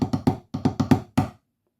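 Marimba playing the opening section of the third part of the Illawalla solo: a short phrase of about seven crisp mallet notes in an uneven rhythm, played close up, then ringing out into silence.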